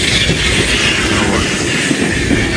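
An old tram rolls past on a Liepaja street in winter, a loud, steady rumble of wheels on rails with rhythmic clacking and a faint metallic squeal, close by with no talk over it.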